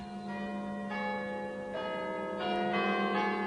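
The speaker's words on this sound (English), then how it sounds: "while the armistice bells rang out" Church bells ring out at noon in Shrewsbury for the First World War armistice, with a series of resonant strikes overlapping one another at a moderate distance.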